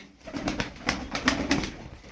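Pigeons making soft cooing calls, a few short rising coos repeated at close range over a quiet background, with no talking.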